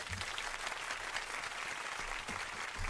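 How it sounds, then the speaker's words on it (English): A comics event audience gives a guest steady, dense applause, many hands clapping evenly for a few seconds with no voices over it. "Let's have a big round of applause for Lawrence Ariarte."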